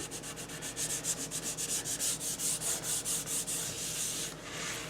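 An old wooden school desk being hand-sanded, with steady rhythmic back-and-forth strokes of sandpaper rubbing across a hard, smooth surface, close and continuous for several seconds before a brief pause.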